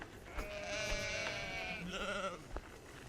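Sheep bleat in a countryside field, one long wavering call followed by a shorter second bleat, fairly close over faint wind noise.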